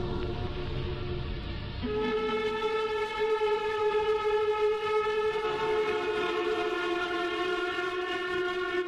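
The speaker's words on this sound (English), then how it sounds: "a loud, siren-like sound that seems to appear out of nowhere" A loud, sustained siren-like drone with layered harmonic tones from an ambient album swells in after a rumbling start and holds steadily, eerie and continuous.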